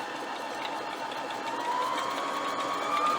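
A sewing machine winds its bobbin as the presser foot is pressed, giving a steady mechanical whir with a thin whine that slowly rises in pitch. It is close and alone, with no speech.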